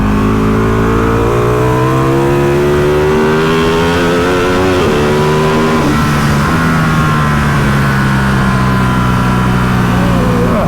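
A classic motorbike runs on a race track, its loud, steady engine drone holding a high idle and rising and dipping in pitch as it moves through a corner. Nothing else is heard over it.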